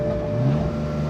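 The engine of a 2015 BMW M3/M4 with four exhaust pipes and 425 horsepower drones steadily up close, briefly rising in pitch as it revs.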